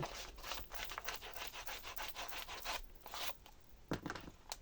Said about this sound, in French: Et du coup, je vais gommer.